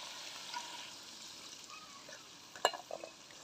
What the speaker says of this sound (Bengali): এখন আমি ঝোলটা দিয়ে দেবো।